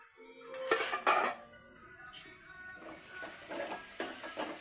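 Metal pan lid set down over a pan of tangy toor dal gojju cooking in oil, giving a few clattering clanks and scrapes of cookware, close and fairly loud with quieter rattles after.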